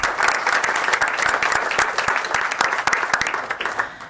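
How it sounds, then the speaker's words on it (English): A round of applause at a board of education meeting during student recognitions, with steady crowd clapping and distinct individual claps standing out, continuous and fairly loud throughout. "Another round of applause."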